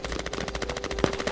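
A .50 cal machine gun fires from a bunker in the war game Squad, loosing a fast, even stream of heavy shots, with one sharper, louder crack standing out near the end.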